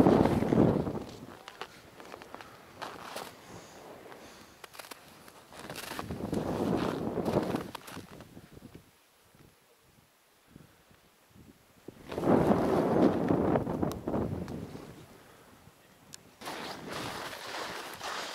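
Wind gusts in loud broadband bursts across a winter mountain cliff edge in Taganay National Park, easing into a quieter lull where a run of close footsteps is heard before the wind picks up again.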